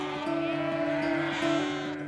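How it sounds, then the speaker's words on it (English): Sheep at a farm sale, a job lot of ewes with their lambs, bleat in a steady wavering call with pitch breaks, fairly close and clear over the whole stretch with no talk. "The sheep are sold as a job lot of 14 ewes plus their lambs."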